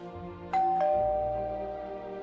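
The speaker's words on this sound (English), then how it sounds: "And the doorbell rang" A two-tone ding-dong doorbell rings once, loud and close, the second note ringing out and slowly fading over a quiet background.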